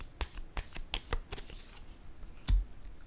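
Tarot cards shuffled and handled during a reading, giving a string of soft, crisp card snaps and riffles at irregular intervals, close and fairly quiet, with one heavier thump near the end and no talking.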